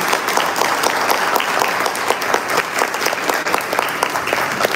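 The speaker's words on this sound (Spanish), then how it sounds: "recibamos con un gran y fuerte aplauso a nuestro" Loud, dense applause from a lecture audience welcoming a speaker, steady, continuous clapping filling the room at close range without any letup.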